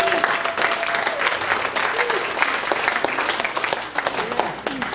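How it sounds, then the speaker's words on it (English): A church audience gives a dense, lively round of hand clapping that runs the whole time, with scattered voices and whoops rising through it. "You guys give these guys a hand clap."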